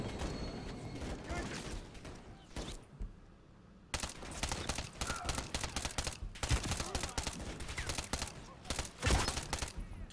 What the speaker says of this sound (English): Where's that shot come from, man?